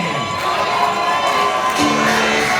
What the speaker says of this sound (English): Listen to this crowd, Zali Gold.